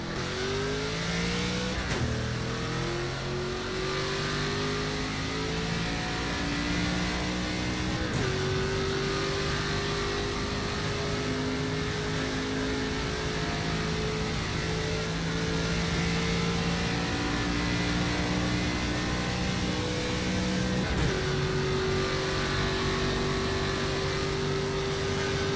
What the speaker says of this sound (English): Drivers are on the track, battling the clock for a shot at the pole